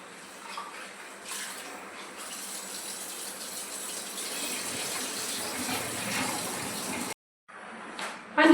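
Hot water pours steadily into a pot of lentils, a continuous rushing splash that cuts off abruptly near the end, followed by brief clattering.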